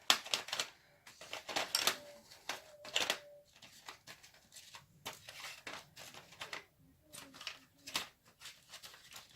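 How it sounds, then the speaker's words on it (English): A 3B pencil is sharpened with a quick series of close, scratchy grinding strokes in an irregular rhythm, fairly quiet, with no talk over it. "let me just sharpen my 3B here so you guys can see"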